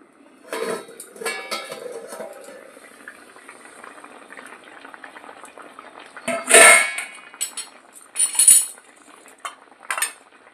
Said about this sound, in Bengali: ঢাকাটা আমি তো খুলে নিচ্ছি